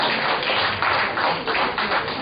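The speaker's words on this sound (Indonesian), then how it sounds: "Kita kasih tepuk tangan yang paling meriah dulu untuk Pak Suroyo." Steady dense audience applause at an indoor Prudential business gathering, continuous clapping throughout the short stretch with no voices.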